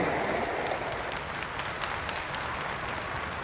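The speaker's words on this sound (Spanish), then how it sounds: "Los asistentes están de pie, aplauden" Steady, dense applause from a standing crowd at a formal gathering, a continuous wash of many hands clapping at moderate distance with no talk over it.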